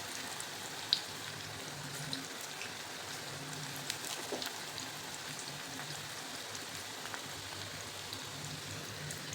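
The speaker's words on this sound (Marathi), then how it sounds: "असंच मीडियम फ्लेमवरती तळून घ्यायचे" Corn pakoras frying in hot oil over a medium flame, a steady soft crackle and sizzle with scattered tiny pops, continuous and fairly quiet with no voices.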